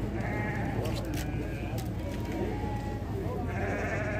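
Goats bleat repeatedly at an animal market in Ouricuri, Pernambuco, Brazil, over a steady background hum, with people talking nearby throughout.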